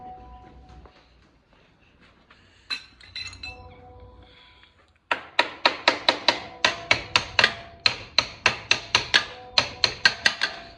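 Quick hammer blows strike a Fiat Falcon car's rear control arm ball joint in a steady metallic rhythm of about fifteen sharp, ringing hits, loud and close, after a quieter stretch of clinking tool handling.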